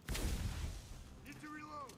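A grenade blast in The Division 2 video game booms loud and low right at the start, its rumble fading over the next second before brief game voice chatter and tonal effects follow.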